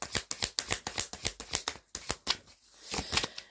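Tarot cards being laid out and handled, a quick series of crisp, close snaps and slaps at an uneven rhythm, followed by a softer rustling slide.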